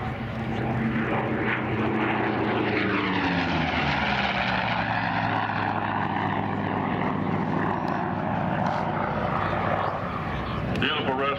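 A restored Corsair warbird propeller plane roars into the air at the Warbirds Over Monroe air show. Its engine holds a steady, swelling drone, with a voice talking over it.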